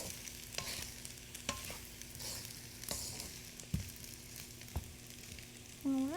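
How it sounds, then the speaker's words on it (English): Egg, shrimp and rice fry together in a pan, a quiet steady sizzle with sharp spatula taps and stirring scrapes, a faint tonal hum in the background and a brief tone near the end. "And I want to fry it all together."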